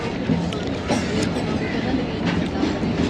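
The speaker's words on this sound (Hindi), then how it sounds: "ये एक लोकोमोटिव है" A train runs along a railway in Punjab on a cold, foggy journey, with a loud, steady rolling rumble and clatter heard from on board, and people talking faintly underneath.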